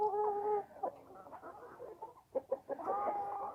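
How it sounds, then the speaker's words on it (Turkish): Blue egg-laying Australorp rooster and hens clucking close by in a run of uneven, overlapping calls, with no talking. "Sonra şu yine aynı şekilde Avustralop Mavi yumurtacı horozu"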